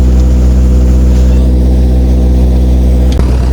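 Tractor engine running steadily with a low droning hum while preparing a wet field for soybean sowing, loud and close, with a constant level and a brief knock near the end.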